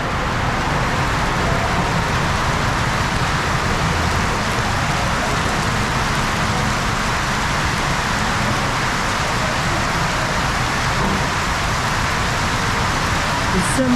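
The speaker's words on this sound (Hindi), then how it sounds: "बहुत तेज़ वाली बारिश शुरू हो गई है," Heavy rain pouring onto a road on a Lahore to Islamabad route in Pakistan, a dense steady hiss throughout, with faint road traffic underneath.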